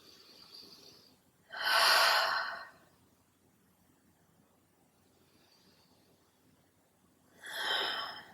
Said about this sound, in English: Breathe into the stretch, send breath.